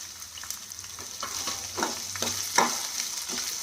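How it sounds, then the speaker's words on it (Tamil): Onions and curry leaves sautéing in a pan, soft sizzling under a series of light spatula scrapes and stirs, close and moderate, with no voices. "2 வெங்காயம் இதில் கொஞ்சம் கறிவேப்பிலையும் போட்டுருவோம்"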